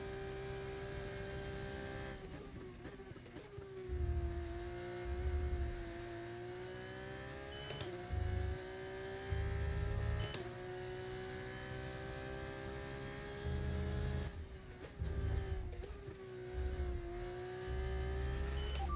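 A Formula 1 car engine in a racing video game whines at a high, steady pitch, with periodic gear shifts and surges of revving over a low rumble, sustained and fairly quiet.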